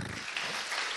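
A church congregation applauds during a Portuguese-language worship service, a brief dense burst of clapping at steady level with no voices standing out.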